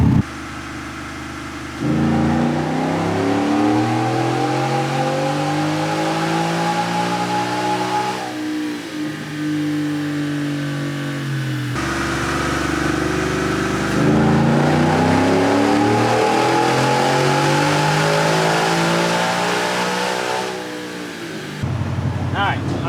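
A 2021 Ford F-150 on a dyno for baseline testing, its engine revving loudly in two long, rising pulls, each climbing in pitch before dropping off sharply.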